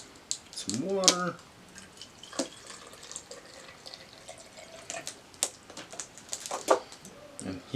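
Water poured into honey in a vessel while making mead, a short splashing pour near the start followed by drips and small clinks, with a voice talking faintly.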